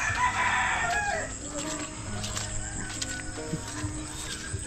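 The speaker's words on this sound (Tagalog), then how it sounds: "Oh, kita niyo mga manok" Chickens cluck and a rooster crows close by outdoors, the calls repeating over a background of voices and ambient noise.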